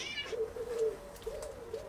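A cat wanders up to a van under conversion and gives a few drawn-out, tonal meows, close by, with short pauses between calls and a quiet background.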